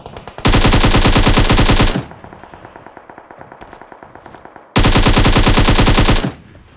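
Two long, loud bursts of rapid automatic gunfire in the mobile game PUBG Mobile during a solo-versus-squad hot drop, separated by a stretch of quieter, rhythmic clicking and footstep-like ticks.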